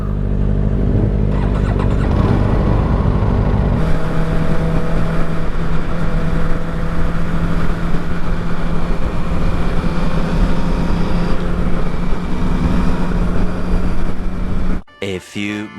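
Kawasaki ZX-4R 400cc inline-four motorcycle engine droning steadily while riding, loud and close, with a brief pitch shift early and an abrupt drop near the end.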